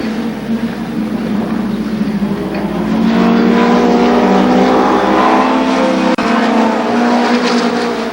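Midget race cars scream around the oval at Columbus Motor Speedway, a loud sustained multi-engine roar that swells as the pack passes close, with high revving tones layered over each other.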